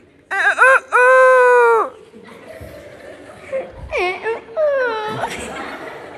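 A voice imitates a rooster crowing with two long strained cries, followed by laughter and chatter from a group of students, then another crowing attempt.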